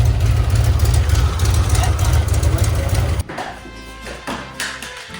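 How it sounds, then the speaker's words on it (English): A loud engine with a small exhaust leak idles with a deep, rough rumble for about three seconds, then cuts off as a person talks over quieter background sounds. "a little exhaust leak"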